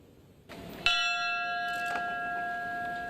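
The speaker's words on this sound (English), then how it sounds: "Each ringing of the memorial bells representing 100 people who have died from COVID-19" A single memorial church bell strikes clearly at a COVID-19 memorial service and its ringing tone lingers, with a faint second strike shortly after, resonant and close.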